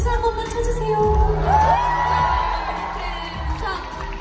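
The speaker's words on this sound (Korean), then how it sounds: "우리 다 같이 박수 한 번만 쳐주세요" A concert audience erupts in a sustained wash of cheering and high-pitched screams that gradually fades.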